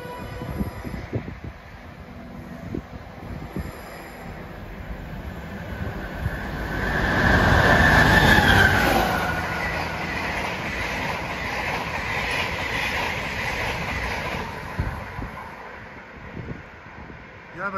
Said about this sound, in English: We got a Hazel Hatch local with the 1500 Cork service gaining rapidly on